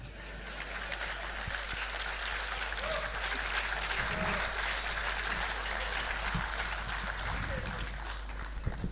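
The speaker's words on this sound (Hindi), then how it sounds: "आप लोगों ने तालियां बजाई" Steady applause from a large audience at a speech, a dense even wash of clapping that holds for the whole stretch at moderate distance with no voice on top.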